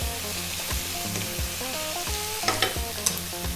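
Chicken fried rice with peppers and fresh red chilli sizzles loudly in a single pan over high heat. A spatula scrapes and stirs in a steady, repeated rhythm, and no one speaks.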